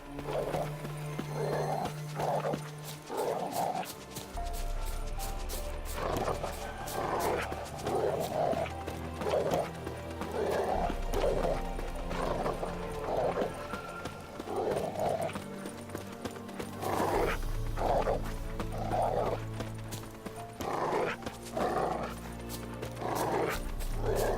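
Horse hooves clip-clopping at a steady walking rhythm in The Witcher 3 video game, with a dog barking now and then as it leads the way, over a game soundtrack.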